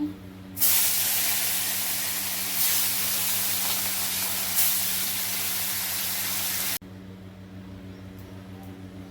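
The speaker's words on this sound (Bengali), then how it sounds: "মাছগুলো ভেজে নেব" Fish fries in oil with a loud, even hiss over a low hum. The hiss holds for about six seconds, then cuts off abruptly, leaving only the quiet hum, and nobody speaks.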